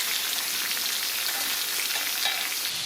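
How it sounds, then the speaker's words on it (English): Chopped onion and four sausages frying in a pan, a steady dense sizzle that holds at an even level throughout, close and with no talk. "put the 4 sausages in and lightly brown those"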